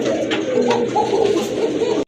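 Lahori pigeons cooing up close, a dense run of overlapping low throaty coos against faint background chirps, loud and continuous before stopping abruptly.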